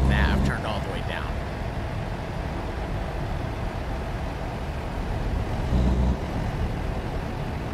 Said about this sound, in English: Right now, I think it sounds loud because I have turned the engine sound all the way up.